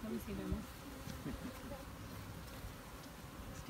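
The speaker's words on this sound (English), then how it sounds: "Now close your hand up and feel him buzzing in your hand." A drone honeybee held in a closed hand at a beekeeping farm buzzes in a steady, muffled hum with a few stronger bursts, close and soft, while people talk faintly in the background.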